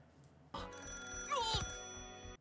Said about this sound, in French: La sonnerie!